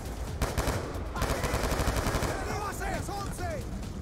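Rapid bursts of automatic gunfire from Call of Duty: Black Ops 2 fill the scene, repeated rattling shots with chirpy electronic effects toward the end.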